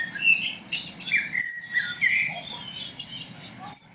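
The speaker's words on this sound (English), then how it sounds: "I love listening to the blackbird." A blackbird sings nearby in fluting, varied phrases with brief pauses, over a soft low background hum.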